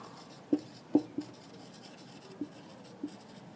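Chalk or a marker writes on a board in a classroom. A few faint scrapes and taps come at irregular intervals over a quiet room background.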